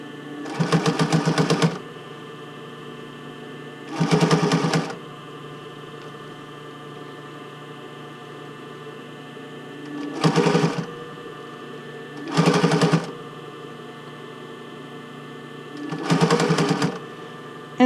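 A sewing machine stitches the casing edge of a bra fitting band in five short, loud bursts of rapid whirring, separated by quiet pauses.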